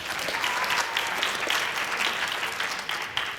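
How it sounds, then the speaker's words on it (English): A round of applause for third grade participants at a district literacy competition, dense, even clapping from the gathered crowd that holds steady throughout without speech. "If we can give a round of applause for our 3rd grade participants"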